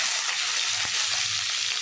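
Potatoes fry in oil previously used for frying fish roe, tempered with five-spice and chilli; a steady, fairly loud sizzling hiss runs unbroken throughout with no voices.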